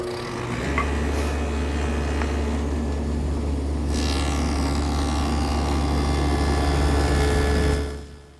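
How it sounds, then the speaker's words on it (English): A table saw fitted with a stacked dado head cuts rabbets, running as a loud, steady low hum through the cut before spinning down at the end. "I've set up my stacked dado head cutter in the table saw"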